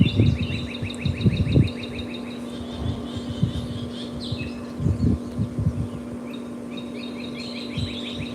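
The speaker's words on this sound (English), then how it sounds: "I'm just letting y'all listen to those birds." Birds sing outdoors in repeated bright trilling phrases, fairly close, while low bumps and a steady hum sit in the background.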